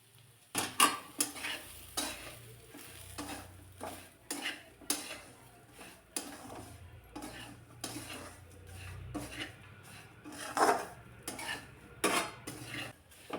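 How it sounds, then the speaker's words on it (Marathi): Dry semolina (rava) roasting in a pan, stirred steadily with a utensil: repeated scraping strokes and light clinks against the metal recur every second or so, close and fairly quiet, with no talking. "लालसर कलर येईपर्यंत रवा चांगला भाजून घ्यायचा आहे."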